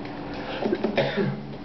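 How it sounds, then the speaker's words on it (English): A few brief coughs and throat-clearing sounds from one person, close and fairly quiet, with no talking. "Excuse me, I got a little bit of cough here today"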